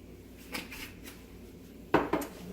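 Chicken being mixed in a bowl with mustard and ground thyme gives soft, low clatter and scraping, followed by two sharp knocks near the end, with no one speaking.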